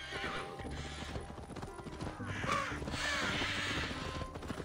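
A horse gallops in the video game Assassin's Creed Valhalla, its rhythmic clip-clop of hooves running under a bed of game music with a whinny and crow calls nearby.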